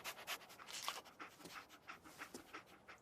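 Dogmeat, the dog companion in Fallout 4, panting in quick rhythmic breaths close by, a steady run of short airy huffs with no voices.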